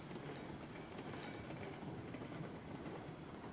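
A locomotive rolls along in the Railroads Online video game, giving a steady, continuous rumble with faint clickety-clack of wheels on rail throughout, moderately close and with no voices over it.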